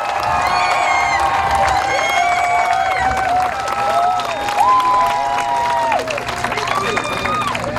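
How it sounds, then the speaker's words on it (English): A crowd at a Cobb County campaign rally for two Senate candidates claps and cheers, with rising whoops and shouting voices over a continuous roar of applause. "give yourselves a round of applause for being here"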